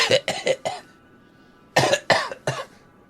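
Two bursts of harsh coughing, several quick coughs each, separated by a short quiet gap, fairly close.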